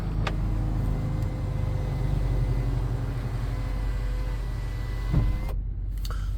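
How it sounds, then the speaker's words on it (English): A 2016 Toyota Sequoia Platinum sunroof motor hums steadily as the roof panel closes, a low continuous mechanical whine inside the cabin ending with a soft thud near the end. "let's close this sunroof"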